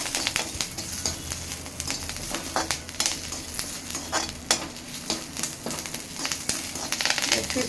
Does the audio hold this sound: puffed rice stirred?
yes